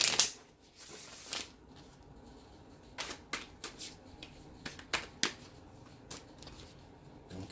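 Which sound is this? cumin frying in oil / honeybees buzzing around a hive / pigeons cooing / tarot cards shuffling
tarot cards shuffling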